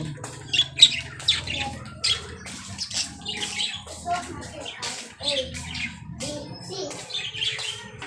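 Many birds squawk and chirp in a busy chorus at a highland spot overlooking the sea, sharp calls overlapping close by, with a person talking intermittently underneath.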